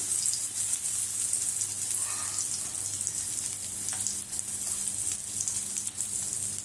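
Prawn vadas fry in hot oil after being turned over, giving a steady, close, even sizzle that continues throughout without any talk.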